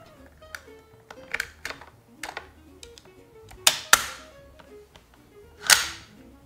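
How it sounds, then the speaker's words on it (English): Clicks and snaps of a gas nozzle being pushed into the chamber and a magazine attached on a VFC M249 airsoft gun, a series of close, sharp plastic-and-metal clicks with a few louder snaps, no talking. "insert the gas nozzle into the chamber and attach the magazine"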